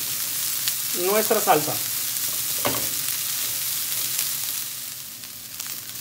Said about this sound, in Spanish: Solo vamos a dejar que dore un poco la carne.